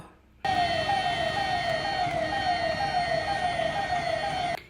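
An ambulance's loud wailing siren starts abruptly and cycles in rapid repeated sweeps for several seconds before cutting off, close by, in Sullia.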